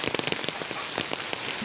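Rain falling on garden plants, a guava sapling and bean vines, in Kumbakonam: a dense, steady patter with scattered sharper drops, close and continuous, no voices.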